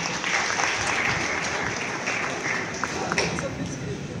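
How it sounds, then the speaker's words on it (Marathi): An audience at a felicitation ceremony claps loudly and steadily, a dense sustained roar of many hands throughout, with a voice faintly audible beneath. "सर्वांसाठी एकदा चांगला जोरदार टाळ्या द्या"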